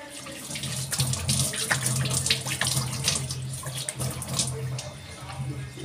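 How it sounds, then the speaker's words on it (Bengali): Tap water runs steadily and splashes nearby while a face is rinsed clean after a home D-tan facial, with uneven bursts from hands cupping and splashing the water. "তাহলে এবার আমি জল দিয়ে ধুয়ে নিচ্ছি।"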